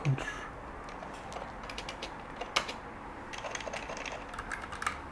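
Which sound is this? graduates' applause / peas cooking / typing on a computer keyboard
typing on a computer keyboard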